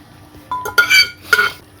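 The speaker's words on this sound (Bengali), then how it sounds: "এবার কড়াইতে ঢেলে দিচ্ছি।" Village-style cooked goat meat tipped from a pressure cooker into a metal wok, with a few loud scraping clanks of metal on metal in quick succession over quiet kitchen background.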